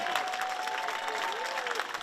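Crowd applauding Pope Francis after he calls to stop choking Africa and keep hands off the Democratic Republic of the Congo; dense, steady clapping fills the whole stretch, with a faint voice or tone running through it.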